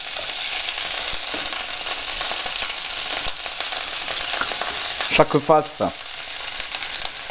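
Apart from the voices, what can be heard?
pork filet mignon searing in a pan after sous-vide cooking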